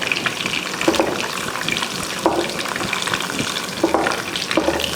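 Steady sizzling of chana dal, urad dal, mustard seeds and cumin frying in hot oil, with scraping and stirring sounds recurring every second or so, close by and continuous.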